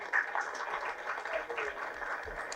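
Audience applause greets a music composer as he is called on stage at the Sembiyan Madevi film trailer and audio launch, a dense, steady clapping from a crowd with a voice mixed in.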